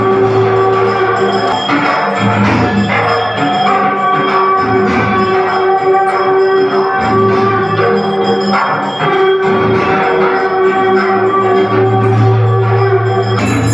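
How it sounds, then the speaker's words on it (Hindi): Conch shells blow and temple bells ring at the night aarti of a Shiva temple, producing a dense, loud, sustained tonal drone with layered ringing throughout. "शंखों की ध्वनि सुनते ही सभी लोग मंदिर की तरफ बढ़े।"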